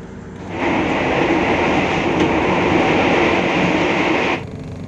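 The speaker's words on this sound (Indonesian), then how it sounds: "KA Singasari kembali diberangkatkan dari Stasiun Kutoarjo Kabupaten Purworejo jam 22:54 menit." KA Singasari passenger train running between Kutoarjo and Kebumen stations at night, a steady loud rumble and roar of the carriages that swells in, holds evenly for several seconds, then drops away.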